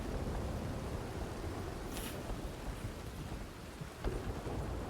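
A rainy thunderstorm in a role-play video game: constant hissing rain with a soft low rumble underneath and a brief brighter crackle partway through, heard on its own.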